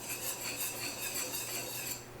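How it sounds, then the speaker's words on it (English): Dry ingredients (sugar, salt, baking powder and baking soda) whisked in a bowl, a steady close scraping and rustling that runs for about two seconds with no voices. "Then I just whisk these together."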